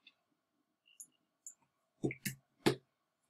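Computer mouse clicks, sharp and close, a few soft taps followed by three louder distinct clicks in quick succession in a quiet room, with no talk.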